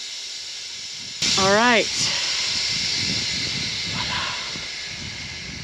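Compressed air blasts from a nozzle to blow dust off a tractor, a steady loud hiss that runs throughout, with a short whistling squeal near the start and a brief spoken remark over it.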